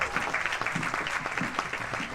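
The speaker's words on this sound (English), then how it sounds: "a round of applause for the mayor of Freetown" Fairly faint, steady applause from a charity concert audience for the mayor of Freetown, with individual claps audible in a continuous patter.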